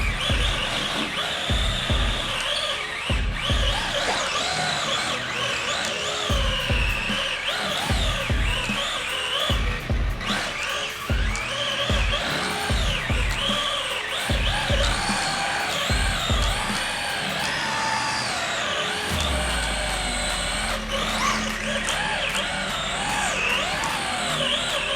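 A Traxxas RC car spins donuts with a high, whining electric motor that surges and falls in pitch, broken by short low thumps and scrapes, and holds a steadier whine near the end.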